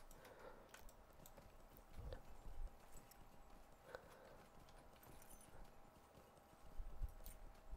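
In the video game Lord of the Rings Online, a steady clip-clop of horse hooves, a regular walking rhythm over a soft ambient background, with occasional brief louder knocks.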